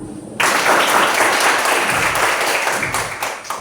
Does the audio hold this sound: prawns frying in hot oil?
no